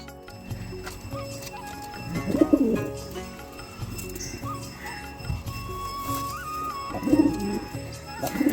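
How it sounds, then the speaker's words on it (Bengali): A pair of Madras pigeons coo after being released together, with low, soft coos in two close bursts against faint background noise. "দুটো পায়রা একসাথে ছাড়ছি, দেখুন।"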